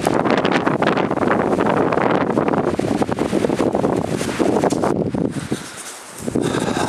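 Winter wind gusts buffet the microphone in snowy terrain, a rough, steady roar with rustling, then briefly drops away before picking up again.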